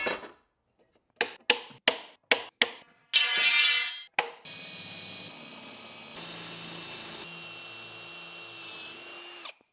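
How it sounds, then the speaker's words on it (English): Miter saw cutting aluminum angle to length: a series of short sharp cutting bursts followed by a longer cut, then the blade whining on as it spins down, close and alone without talk. "We're just going to cut these to length on the miter saw"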